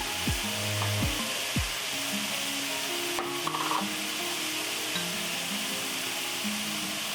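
Kinpira with chili powder and sesame being stir-fried in a pan: a continuous close sizzle with scraping strokes of a utensil and a few low knocks against the pan, no voices.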